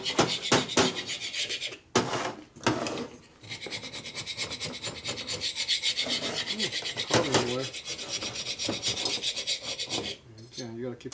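Gasket surfaces on a 1984 Harley Evo FXR 80ci engine being scraped clean: harsh, close, rasping strokes repeat almost continuously, with brief pauses between bursts.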